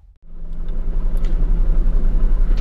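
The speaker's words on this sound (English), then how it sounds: "let's go with the quick test drive" A 1993 Honda Today Pochette kei car pulling away on a test drive, its small engine rumbling steadily and loudly close by after a brief quiet start, with a low pulsing drone.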